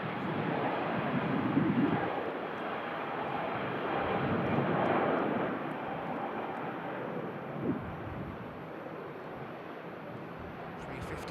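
An airliner rotating on takeoff at Manchester Airport sends out a broad engine roar that swells twice and then gradually fades, with a voice speaking occasionally over it.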